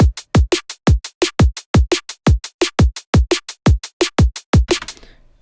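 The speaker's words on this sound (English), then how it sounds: "Let's say we place a kick drum on the 8th note after the first snare." Drum and bass beat with a kick drum placed on the eighth note after the first snare: a fast, dry pattern of punchy kicks and crisp snares in a steady loop, loud and alone, ending on a brief ringing tail.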